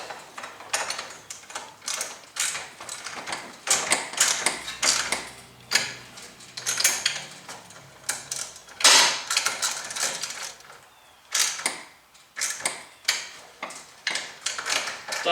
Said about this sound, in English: you use either 3/8 wrench or you use 7/16 12-point socket.